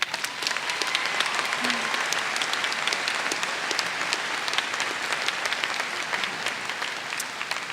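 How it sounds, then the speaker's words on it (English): A big crowd at a university commencement ceremony applauds in a thick, continuous wash of clapping that holds steady and loud from start to finish. "Please join me in giving them a round of applause."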